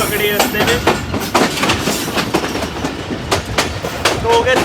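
Chenab Express passenger train running on rails in Pakistan between Sargodha and Mandi Bahauddin, a steady loud rolling rumble with repeated clickety-clack wheel beats over rail joints, heard from onboard with a voice speaking over it.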